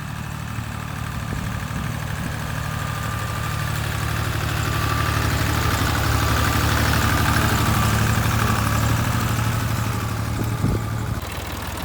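A Chinese motor tiller engine runs steadily while tilling a garden plot, a close, continuous low idling drone with a slight rise in intensity midway, no voices.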